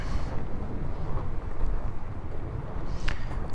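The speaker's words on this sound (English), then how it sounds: "Really windy today. It's been windy all day." Strong, gusty wind buffets the microphone outdoors on an Idaho backcountry motorcycle ride, a loud, continuous low roar that swells and dips in waves with no one speaking.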